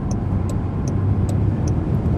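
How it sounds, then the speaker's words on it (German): A Jaguar I-Pace electric car at full throttle gives off a steady, loud low road and wind roar inside the cabin, with faint regular ticking clicks repeating through it. "Beschleunigung ist schon sehr, sehr ordentlich und sie ist vor allen Dingen sofort da"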